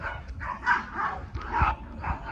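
Several tiny dogs bark and yip in quick, overlapping bursts behind a dark fence, fairly near and steady in loudness, with no talk.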